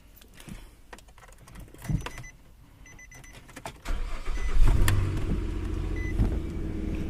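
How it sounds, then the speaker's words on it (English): Car being backed up, a vehicle in a household setting: quiet clicks and faint movement at first, then an engine rumble rises and holds steady, fairly close, with no talk. "So Mama Bear's car is gonna move back."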